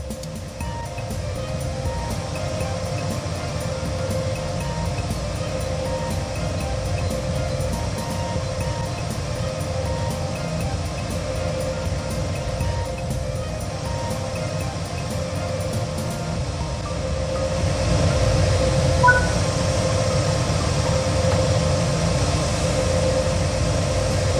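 BR185.2 electric locomotive in Train Sim World 3, a steady low droning hum and rumble of the running engine that grows slightly louder toward the end, with no talk.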